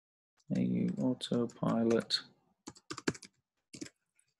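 Typing a web address on a computer keyboard: after someone speaks, a few quick, crisp key taps come in short irregular runs, close and fairly clear.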